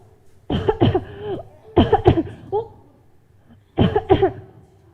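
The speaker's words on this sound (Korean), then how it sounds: "기침하네." Coughing, loud and close, in three short bursts of two or three harsh coughs each, separated by brief quiet pauses.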